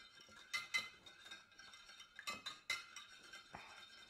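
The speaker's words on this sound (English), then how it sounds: "I'm gonna whisk it up here. Get that nice and whisked up." An oregano marinade is whisked in a bowl, giving a run of quiet, bright metallic clinks and taps in irregular clusters, with no talking.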